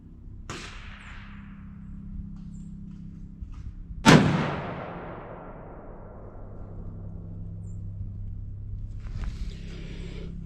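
A single sharp .308 rifle shot cracks out at an outdoor range, loud and close, its blast trailing into a long fading echo over steady low background rumble.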